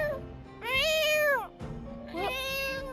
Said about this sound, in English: Does she have like a little cute cat bot?